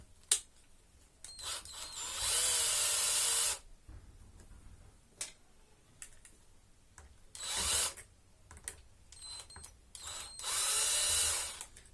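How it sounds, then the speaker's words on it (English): A power driver backs screws out of the throttle servo on a Baja 5B 1/5 scale RC car, giving three sustained whirring bursts separated by small clicks and handling noises, loud and close. "we want to remove these screws from the servo"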